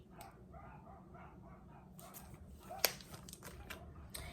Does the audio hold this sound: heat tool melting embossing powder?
no